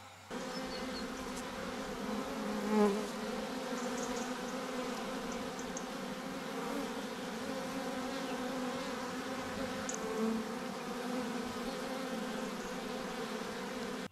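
A swarm of honeybee workers buzzes steadily while being collected into a hive box, making a dense, continuous close drone with slight swells and no voices.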